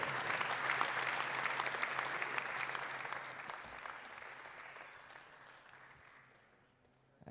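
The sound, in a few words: audience applause at awards ceremony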